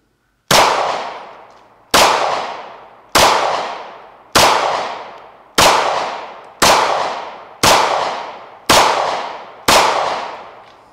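A SAR9 SOCOM Compact pistol fires nine evenly spaced shots, each a loud sharp crack with a ringing decay, about one second apart, with no talking.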